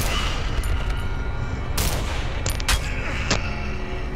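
Rifle gunshots in the Cry of Fear co-op horror game, heard as a few sharp, separate cracks spaced over a few seconds above a constant dense game background.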